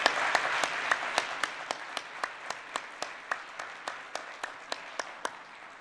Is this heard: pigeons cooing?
no